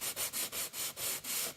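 Rhythmic rasping strokes of hand-sanding wooden window and door trim, about seven even back-and-forth passes, close and fairly quiet.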